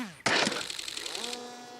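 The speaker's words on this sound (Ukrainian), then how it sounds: "Зафіксували постріл ворожої гармати." Enemy artillery gun firing near Pokrovsk, in a war zone: one sudden sharp blast followed by a sustained roaring, ringing decay that settles into a steady tonal whine.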